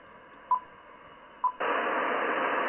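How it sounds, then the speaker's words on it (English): IO-117 satellite data signal received over amateur radio during a low 10-degree pass: faint hiss broken by two brief tones, then a steady, louder burst of noisy data hash that fills the rest. "Yeah, I hear that data. The satellite's only at 10 degrees and I'm hearing it."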